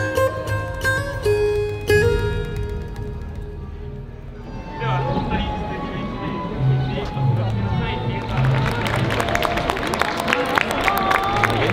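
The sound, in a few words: crowd applauding a wedding couple on a gondola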